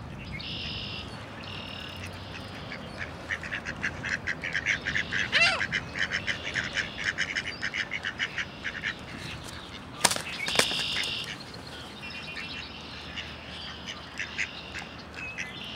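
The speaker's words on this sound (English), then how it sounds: "This is a mallard." Mallard ducks quack beside the Ottawa river, a close series of raspy calls that comes in irregular bursts over soft outdoor background noise.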